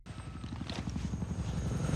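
Cobra attack helicopters in a TV war series give a steady, low, rhythmic rotor thump with a broad mechanical roar that swells slightly, heard alone without talk.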